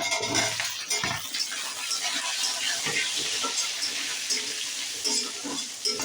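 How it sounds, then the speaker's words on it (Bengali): Cut potatoes fry in a pan with grated ginger, giving a quiet, steady sizzle broken by scattered crackles and occasional stirring knocks. "আলুগুলো ভাজা হয়ে গেছে"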